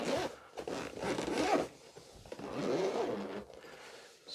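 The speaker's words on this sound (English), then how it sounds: "open this zipper" Zipper on a drone carrying bag being pulled open, a few raspy zipping strokes in bursts at moderate closeness, fairly quiet with short pauses between pulls.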